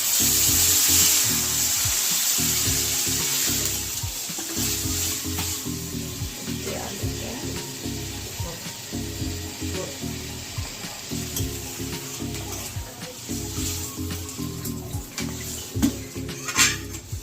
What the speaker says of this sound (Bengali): কষা হয়ে গেছে, এবারে জল দেবো।